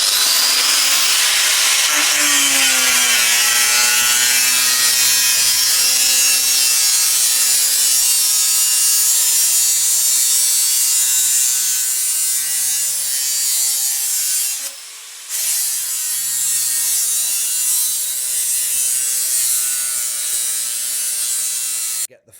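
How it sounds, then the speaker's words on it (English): A forged pattern-welded steel sword blade being ground and sanded on a power machine, a continuous loud whining grind with a high hissing rasp that briefly drops out near the end of the run, no talk. "we then spend a long time cleaning it up, sanding it, grinding,"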